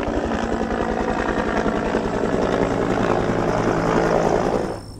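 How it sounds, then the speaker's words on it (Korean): Two helicopters fly over Ongseongsan mountain in Hwasun, South Korea, their rotors giving a loud, steady, rapid thudding overhead that drops away abruptly at the end. "헬기 두 대로 움직이는가 보네요"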